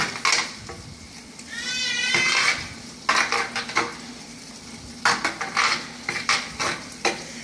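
Chuckwagon beans mixed in a cooking pot, with loud, close scraping and clanking of a spoon against the pot in uneven strokes over a sizzling background, including one squeaky, drawn-out scrape.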